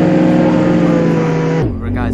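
A car driven in the Roblox game Jailbreak, a steady loud engine drone with layered tones that drops off sharply near the end, followed by a brief lower rumble.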